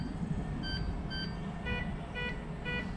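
A RICOMAX metal detector sounds over a quarter coin, giving a string of short, thin electronic beeps whose tone shifts. They are faint against a steady low rumble of nearby traffic.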